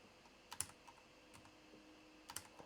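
Keys tapped on a new computer keyboard, sparse close clicks in small bursts with pauses between, quiet against a faint steady room hum.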